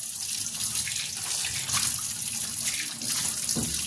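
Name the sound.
washing fish under running tap water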